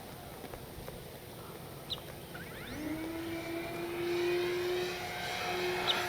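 An E-flite D-18 RC model warbird flying overhead, its faint electric whine rising and sweeping in pitch as it passes, alone against light outdoor background noise.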